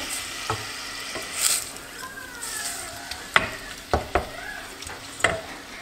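Frozen ground meat for lasagna fries and sizzles in a pan while a utensil stirs and breaks it apart, with a steady hiss and several sharp scraping clicks.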